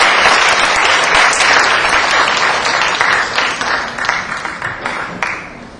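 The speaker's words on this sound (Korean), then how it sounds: "박수 부탁드립니다." An audience at a university debate contest awards ceremony applauds steadily, dense continuous clapping that gradually thins and fades toward the end.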